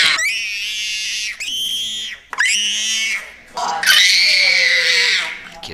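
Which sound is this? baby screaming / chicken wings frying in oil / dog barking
baby screaming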